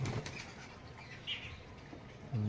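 Pigeons bathe close by, with quick bursts of wing flapping and splashing water, short fluttering flurries over a quiet background.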